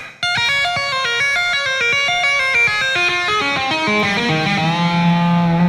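A fast electric guitar run with a distorted tone from a solo, rapid notes descending and climbing in quick succession, ending on a sustained low note.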